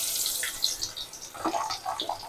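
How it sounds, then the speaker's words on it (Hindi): Chopped onion drops into about 100 grams of hot refined oil in a kadhai, giving a steady, bright sizzle with crackling pops close by. No one speaks over it. "तेल गर्म हो गया, ये देखिए ये प्याज में उसमें डाल"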